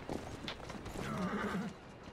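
A horse in the video game Assassin's Creed Syndicate, pulling a carriage, clip-clops along and lets out a loud whinny near the middle.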